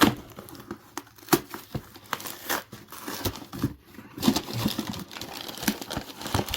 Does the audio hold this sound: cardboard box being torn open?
yes